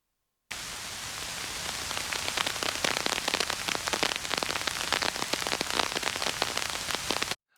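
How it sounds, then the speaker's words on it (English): Steady rain with drops pattering on top of an umbrella, a dense hissing wash dotted with distinct close taps, continuous and alone for about seven seconds. "transition from just rain ambience to actual raindrops on top of an umbrella."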